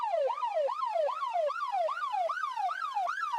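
A high-pitched police siren effect, transposed an octave up, yelps in fast, regular rising and falling sweeps, loud and continuous, sounding thin and raised in pitch.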